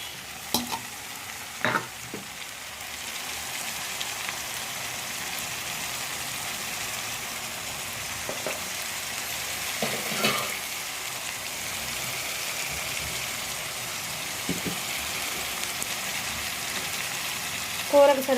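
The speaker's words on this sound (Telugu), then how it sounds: "టమాటా ముక్కలు యాడ్ చేసుకుందాం." Tomato pieces frying in a curry in a pan give off a soft, steady sizzle, broken by a few brief stirring scrapes and knocks.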